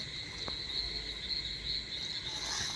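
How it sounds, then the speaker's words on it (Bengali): Crickets chirp loudly and continuously outdoors at a rural farmhouse, a dense, shrill, steady trill close by with faint background rustle and no talking. "কি পরিমাণ জিজি পোকা দেখছো ডাকে কি শব্দ কানটা নিয়ে যাচ্ছে জিজি পোকায়"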